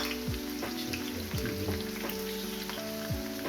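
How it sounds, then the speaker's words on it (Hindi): Steady sizzling and crackling of onions frying in hot ghee, with a dull, repeated tonal hum underneath, fairly quiet and continuous. "घी डाल के ये गर्म हो चुका है। ये प्याज डालेंगे, हल्का सा ब्राउन करेंगे"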